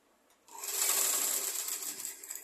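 A sewing machine stitches a rolled hem on a chemise. After a quiet start it breaks into a fast, steady whir of stitching that is close and moderately loud, with no speech.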